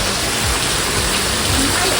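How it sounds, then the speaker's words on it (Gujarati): Heavy monsoon rain pours down onto a flooded village courtyard, a dense, continuous hiss of loud falling water filling the whole short stretch. "તમે અહીંયા જોઈ શકો છો કે આપણે બહુ જ વરસાદ આવે છે"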